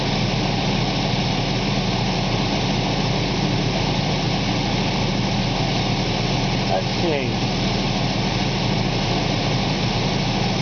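A car engine idles with a steady, loud, continuous drone and hum that never changes, while someone briefly speaks in the background.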